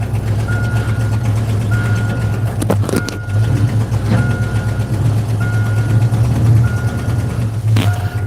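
An engine idles with a low, steady rumble that runs throughout, broken by a few sharp metallic clanks and a faint repeating beep in the background.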